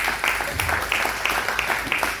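A church congregation at a teaching service applauds together, a dense, steady wash of clapping with rhythmic swells, fairly loud and filling the room.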